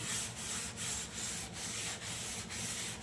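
A steel kitchen sink is scrubbed by hand in repeated back-and-forth strokes, giving a soft, even rubbing with a regular rhythm, close and fairly quiet, with no voices.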